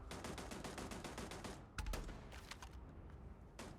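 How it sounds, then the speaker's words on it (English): Machine gun fire in the video game Starfield sounds as a rapid, dense string of shots. A louder burst follows, then a few sparser bursts and single shots. "Where's the machine gun coming from?"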